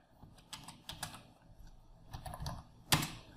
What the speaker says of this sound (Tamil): இதே மாதிரி இப்போ நான் நோட் பேடில் டைப் பண்ணி காமிக்கிறேன்.